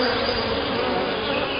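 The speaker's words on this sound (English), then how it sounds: "Lots of bees." Dense honey bees swarm around an opened hive during an inspection, a loud continuous buzzing hum close by with no break.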